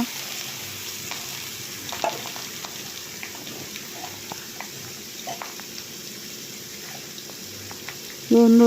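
Sliced ridge gourd and green chilies fry in hot oil, giving a steady, soft crackling sizzle close by, ending with a sudden louder clatter and tone.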